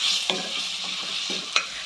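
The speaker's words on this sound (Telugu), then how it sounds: "ఇప్పుడు మనం మిక్సీలో పట్టుకున్న పచ్చడి మొత్తం దీంట్లో వేసుకొని కలుపుకోవాలి" A spoon scrapes and stirs ridge gourd peel chutney in a pan, giving a few distinct clinks and scrapes over a soft, steady sizzle, with no talking.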